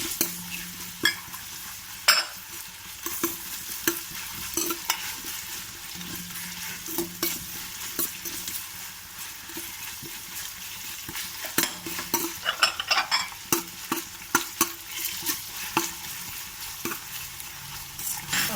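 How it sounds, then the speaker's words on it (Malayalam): Two green chillies sizzling in oil in a pan for chicken biryani, stirred with repeated scrapes and clinks of a spoon against the pan over a steady frying hiss, close up with no voices. "അതിലേക്ക് നമ്മുടെ 2 പച്ചമുളക് ഇട്ട് കൊടുക്കാം"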